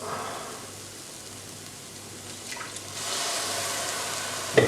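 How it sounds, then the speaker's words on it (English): Water splashes briefly into a hot curry pan, a soft hissing rush that builds midway, followed by a sharp sizzle-like crackle at the end. "I am just going to add a few splashes of water"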